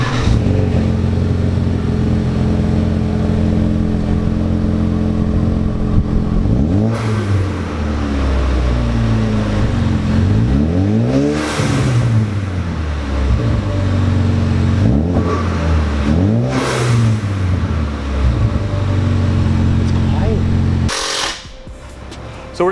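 A Ford Focus RS with a resonated catback exhaust revs repeatedly. It starts with a steady idle drone, then gives three or four close, loud rising-and-falling blips, and cuts off sharply near the end.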